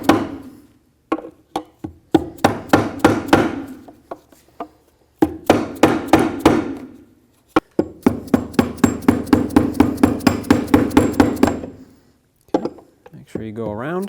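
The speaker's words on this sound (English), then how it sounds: "And I'll get a bigger socket to hammer these in." Spark plug tube seals on a 2009-2019 Ford Flex being hammered in with a socket: sharp metallic taps in quick bursts and runs of rapid strikes, close and loud, with brief pauses and a voice at the end.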